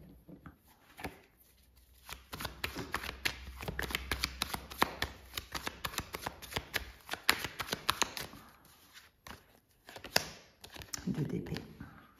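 A deck of tarot cards is shuffled close by, a fast run of soft flicks and riffles lasting several seconds, with someone speaking French over part of it.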